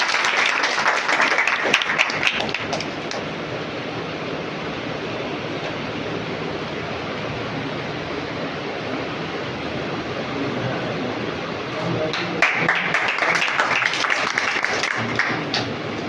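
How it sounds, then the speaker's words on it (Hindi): A crowd at a welcome ceremony at a women's college in Chhapar applauds loudly, with crisp clapping at the start and end and a steadier, rushing wash of applause in between. "जोरदार तालियां बजाकर"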